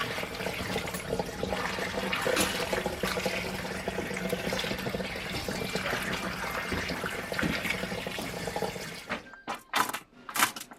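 Water runs steadily as boiled acorns are drained and rinsed in a kitchen, a continuous close splashing flow that stops near the end, followed by a few brief clatters.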